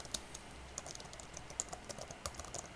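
Quiet, light clicking of a computer keyboard as a code comment is typed, irregular keystrokes with small bursts, close but faint, with no talking.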